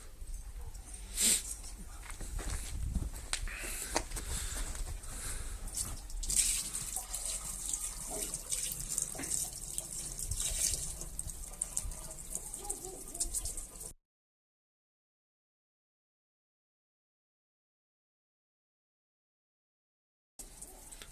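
Water runs steadily for about fourteen seconds with occasional splashes and a dog barking faintly, then silence before the sound briefly returns; water appearing during the first start of a Shifeng 240 mini tractor after winter.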